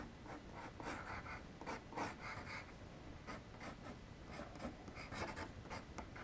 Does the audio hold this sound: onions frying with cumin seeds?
no